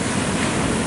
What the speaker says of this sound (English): That was some bad waves.